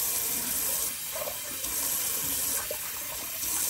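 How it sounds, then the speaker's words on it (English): Cold water runs steadily from a tap into a sink, a continuous close splashing rush with slight changes in the flow and no voices. "let's do a little cold water rinse."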